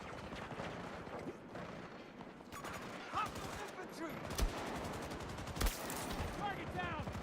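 Dense gunfire from a Battlefield video game, rapid overlapping shots with a couple of louder heavy bursts standing out, continuous and close throughout, with a voice speaking underneath.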